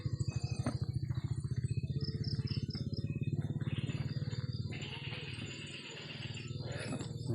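A motorcycle engine idles and revs nearby outdoors, a steady pulsing rumble with a rattling drone that holds for several seconds, loud and close.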